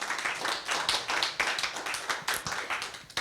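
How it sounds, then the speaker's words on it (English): A small audience at a library discussion event claps briskly, the individual hand claps distinct and fairly close, with a moderate, uneven rhythm throughout. "Let's give them a round of applause."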